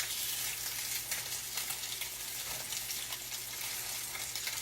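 Salmon croquettes fry in a pan, giving a steady, dense sizzle that stays fairly even and close throughout with faint crackling and occasional soft stirring, and no talking.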